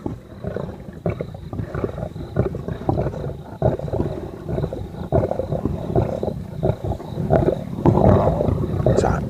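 A pride of lions roars together, deep throaty bellows overlapping and building into a loud, continuous chorus with a steady high whine running faintly beneath.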